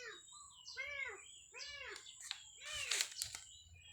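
Birds call around a calamansi farm with a few distinct arching whistled chirps in quick succession, then a busier, brighter burst of calls over a low background rumble.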